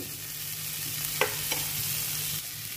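Cooked moong dal is stirred into a sizzling beans stir-fry, a steady frying hiss with a couple of soft scraping strokes of a spoon in the pan.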